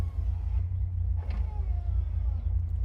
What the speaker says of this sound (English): Power windows, passenger side,